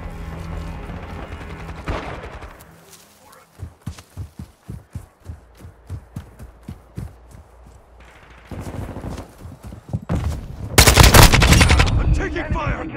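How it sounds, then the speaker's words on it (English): Gunfire in the Call of Duty: Modern Warfare II video game, a rhythmic run of single shots followed by louder, denser bursts of automatic fire near the end, over game ambience. "I'm taking Enemy fire!"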